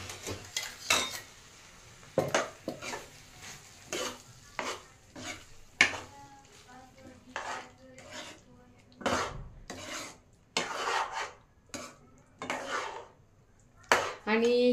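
Spiced masala gravy with turmeric stirred into a pan of mixed Bhogi vegetables, giving repeated scraping and clinking of a spoon against the pan in an uneven rhythm, close and fairly quiet, with no talking.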